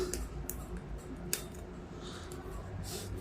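Scissors snip through fishing line while a reel is being spooled, one sharp cut standing out against a steady, low background hum.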